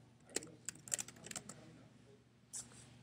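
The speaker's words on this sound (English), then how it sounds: "type in my password" A few scattered keystrokes of a password being typed on a computer keyboard, soft and close, in short irregular clusters with a quiet pause before one last tap near the end.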